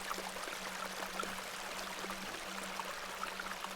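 Steady rushing water of a babbling beck in the game The Excavation at Hob's Barrow, a continuous gentle stream with faint trickling glints over a low constant hum.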